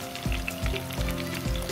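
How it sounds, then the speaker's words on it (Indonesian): Sliced shallots, garlic, ginger and galangal sizzle in hot oil for a Minang green bean tauco curry, a dense close crackling fry with soft stirring knocks every half second or so, no voices. "setelah minyaknya panas kita masukkan bumbu-bumbunya ya. Bawang merah, bawang putih, jahe dan lengkuas"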